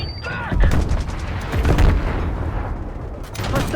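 A Black Ops 6 firefight in which a Semtex grenade blast booms amid repeated gunfire and mechanical clatter, several heavy impacts spread across the moment at moderate loudness.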